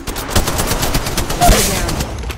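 Rapid automatic gunfire from the Apex Legends Mobile battle royale game, a dense continuous burst of shots running for about two seconds at steady, fairly loud level with no speech.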